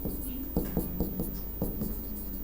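Pen writing the founding year on paper, close scratchy strokes in short bursts with a few sharper taps.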